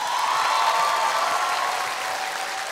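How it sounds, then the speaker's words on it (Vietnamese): A large audience gives a singer a big, steady round of applause at a Vietnamese bolero music show, dense and continuous throughout with a faint tonal hum running beneath it. "Một tràng pháo tay thật lớn cho chị Tư được không ạ?"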